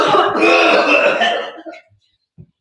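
A harsh, loud cough burst lasting over a second in a comedy drama scene, trailing off into a rasp, then silence and one small short sound.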